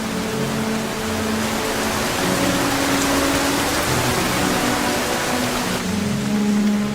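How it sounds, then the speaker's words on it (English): A heavy downpour falls over the Amazon rainforest, a dense, continuous roar of rain with a steady hiss and low rumble, loud and unbroken with no voices. "The clouds of moisture over the jungle lead to frequent downpours."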